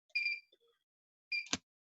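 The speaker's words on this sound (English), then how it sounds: "See how it's beeping here?" An access control card reader sounds two short electronic beeps, the first longer and the second brief with a click, alone in a quiet room.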